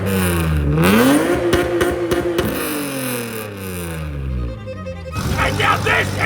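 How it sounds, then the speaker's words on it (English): A Toyota Supra with a naturally aspirated 2JZ straight-six and a straight-pipe exhaust revs hard several times, rising and falling in pitch, loud and raw, with brief pops between the revs. "This is how a naturally aspirated straight pipe 2JZ sounds."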